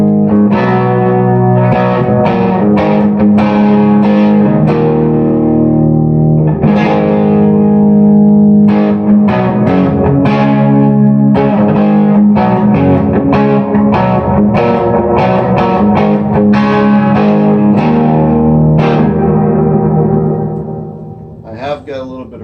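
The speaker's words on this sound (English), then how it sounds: "This is my bass tone before pedals." An electric bass plays a steady run of plucked notes through a Hughes and Kettner amp with no pedals, clean and full, with brief pauses, fading at the end.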